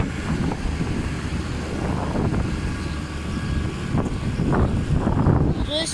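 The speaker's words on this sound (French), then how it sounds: "Est-ce qu'il y a un petit peu de vent" Gusty wind buffets the microphone on a farm in a continuous low rumble, with a voice talking faintly underneath.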